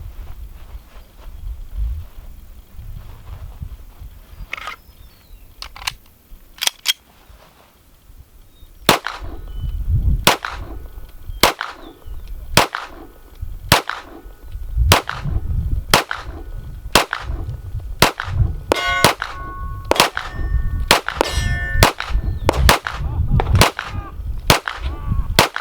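Rapid string of sharp gunshots at close range, about 5 yards, striking a steel target, with each crack ringing off the plate; sparse shots at first, then a steady, evenly spaced volley of loud reports.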